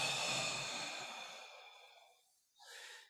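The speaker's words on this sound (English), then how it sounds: "Breathing out." A person exhales during a breathing exercise in a judo grappling drill, one long, loud, airy breath fading over about two seconds, followed by the start of a softer breath.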